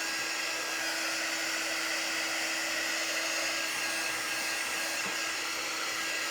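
A hair dryer blowing on a freshly painted surface, giving a steady, loud broadband whoosh with a constant motor whine throughout and no talking.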